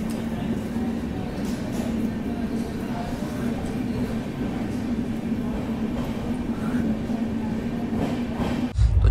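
A Humsafar Express passenger train runs on rails between Udaipur and Mysuru, heard from inside as a loud, continuous rolling rumble with a steady low hum and faint rattles, plus a sharper jolt near the end.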